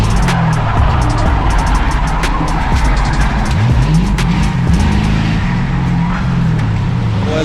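Crown Victoria race cars at a LeMullets endurance race spinning out, with sustained tire skidding and squeal over loud, continuous engine roar and revving throughout.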